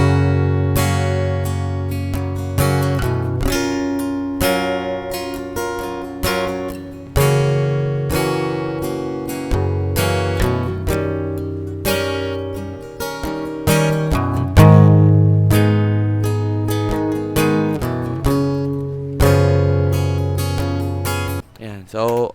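Guitar chords recorded at home against a metronome, a verse played in rhythmic strums with steady attacks throughout, close and fairly loud, ending with a short click.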